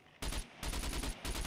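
Rapid gunfire in the survival game Scum, a few sharp bursts of shots cracking close by in quick succession, loud against a quiet background.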